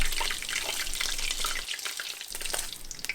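Steady crackling sizzle of flautas frying in hot oil, with a brief dip before the bubbling picks back up.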